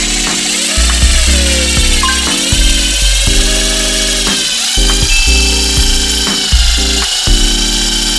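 A power drill drives into a wall stud while a curtain rod is being installed, whining steadily in loud, close stop-start bursts that change pitch as the motor is triggered and released.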